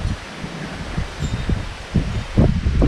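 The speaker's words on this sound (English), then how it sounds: "It's so windy." Gusty wind rustling through tall sunflower leaves, a steady dry swishing with low buffeting rumbles that swell louder toward the end.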